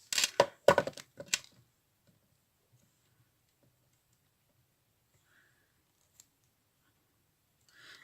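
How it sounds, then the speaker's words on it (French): Small scissors snipping scrap paper, a quick burst of several sharp crisp cuts at the start, then near silence with a faint tick and a light rustle at the end. "Je préfère le petit ciseau comme ça en fait."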